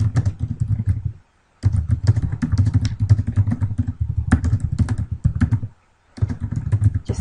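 Typing on a computer keyboard while writing a Facebook post, steady clattering keystrokes in continuous bursts broken by two short pauses, fairly loud and close with no talking.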